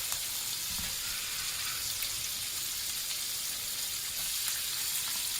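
Purple cabbage sautéing over medium heat in a pan gives a steady, soft broadband sizzle with faint crackles, continuous and fairly close, with no talking.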